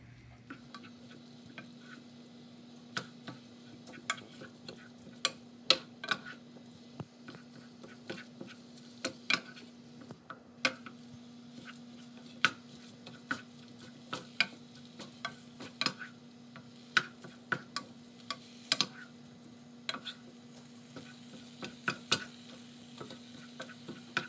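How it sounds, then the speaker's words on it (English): Low, steady sizzling of browning meat in a pan with frequent sharp clicks and taps scattered throughout, no voices. "It may start to sizzle a little bit"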